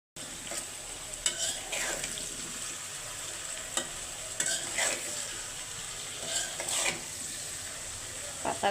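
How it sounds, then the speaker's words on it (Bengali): Cabbage stir-fried in a pan at home, a steady close sizzle of frying with repeated scraping stirs of a utensil against the pan, no voices. "এখন এই যে পাতাকপি ভাজি করতেছি"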